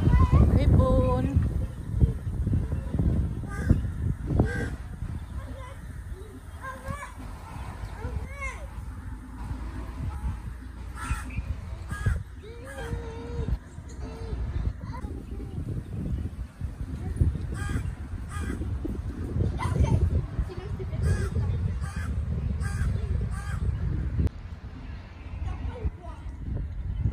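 Many crows cawing in Riyam Park, repeated harsh calls scattered near and far over a noisy, rumbling outdoor background, with people talking at times.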